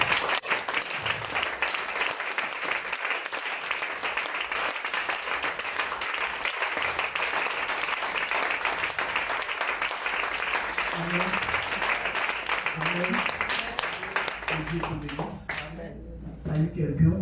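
A church congregation bursts into sustained applause to acclaim God, loud dense clapping that fills the room and carries on steadily. It fades near the end as voices come through.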